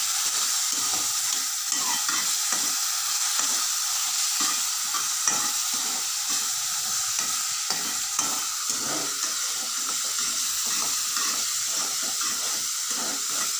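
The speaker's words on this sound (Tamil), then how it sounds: "ட்ரையாக இது எண்ணெயிலே வதக்கி நம்ம காலிஃப்ளவரை வந்து வதக்க போகிறோம்" Dry cauliflower masala stuffing for chapati is sautéed in hot oil, giving a steady close sizzle with a regular series of spatula strokes scraping through the pan, and no voices.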